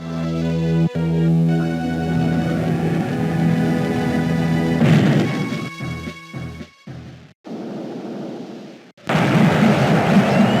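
Loud rumbling blasts as a space station is blown up in the Metroid Fusion game, a sustained low roar under droning music, then broken bursts and sharp cutoffs, ending in a renewed heavy burst.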